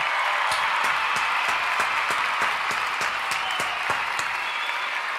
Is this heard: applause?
yes